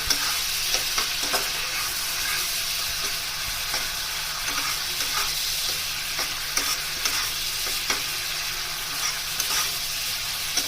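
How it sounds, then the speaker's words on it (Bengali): Masala sizzles loudly in oil as it is sautéed until the oil separates, a steady frying hiss with regular spatula scrapes running throughout, for an egg dish called dim sundori. "এবার কষিয়ে নিলাম, ভালো মতো কষিয়ে নিলাম, তেল ছাড়া পর্যন্ত অপেক্ষা করছি"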